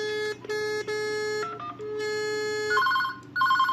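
A telephone extension line rings through a test handset, steady electronic ringing tones in repeated bursts with brief gaps, close and clear with no talking.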